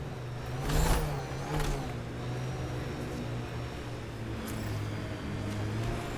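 The vehicle engine in Mass Effect: Andromeda drones steadily with a couple of brief revving swells, a continuous mechanical hum throughout.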